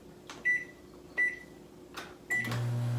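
Microwave oven starting to heat a cup of water: three short keypad beeps, then a clunk as it switches on, followed by a steady low hum of the running oven.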